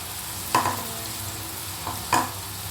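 Onion paste frying in hot oil, with a soft continuous sizzle broken by two distinct stirring scrapes of a spoon against the pan.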